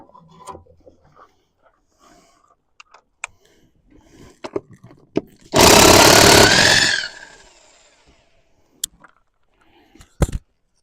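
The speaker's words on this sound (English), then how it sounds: "These impact wrenches, they're so nice." An impact wrench loosens a lug nut on a wheel of a Case 1845C skid steer, giving one loud, harsh, rattling burst of about a second and a half amid quieter clinks and handling noises.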